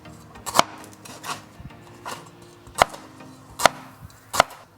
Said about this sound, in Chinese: 接下来我们将它切碎。